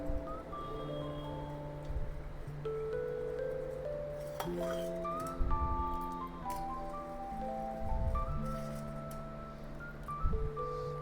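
A metal utensil mashes cooked dal for sweet varan in a pot, with slow repeated dull thuds and ringing metallic clinks between strokes.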